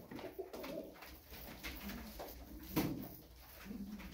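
Roller pigeons coo softly on a rooftop loft, low murmuring calls repeating under faint background noise and some rustling.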